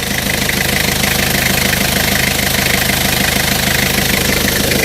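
A Toyota Mighty-X pickup's diesel engine idles steadily with a low, knocking rumble, loud and close, with no voices over it.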